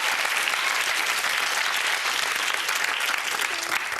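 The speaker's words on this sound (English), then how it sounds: "So a big round of applause, first of all, please, for Nina Copeland." A television game show studio audience applauds a contestant being introduced, with dense, loud, continuous clapping from a large crowd throughout.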